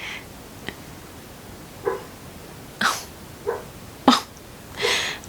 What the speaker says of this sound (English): that's my dog dreaming next door.